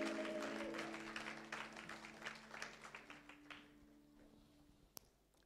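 A church congregation applauding during a Sunday service: steady dense clapping that gradually thins and fades over several seconds, with a sustained tone beneath it and a single sharp tap near the end.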